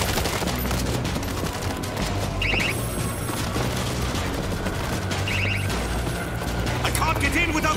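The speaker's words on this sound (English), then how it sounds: "We got a 50 cal! Place the machine gun." Heavy gunfire in the zombie shooter World War Z, with dense rapid bursts and booms from a .50 caliber machine gun and other weapons, loud and continuous, with shouted voices mixed in.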